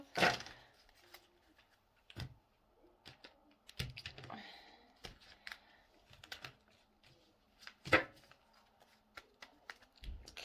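Soft, irregular tarot card shuffling with scattered taps and slaps, quiet and close, going on for several seconds with no speech.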